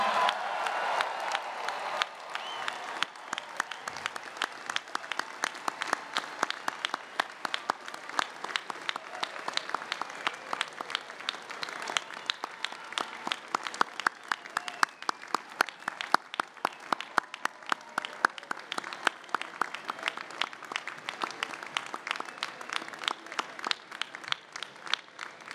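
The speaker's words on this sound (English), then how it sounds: "How about let's hear it for the graduates of 2015." Sustained applause for graduates at a spring MBA commencement ceremony, with a large crowd clapping steadily in a dense, crackling wash and some scattered cheering, lasting throughout without a break.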